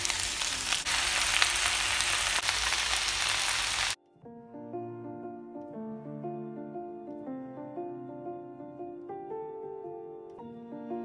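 Spinach and red onion fry in a pan with a loud, steady, dense sizzle for about four seconds. The sizzle then cuts off abruptly and music takes over.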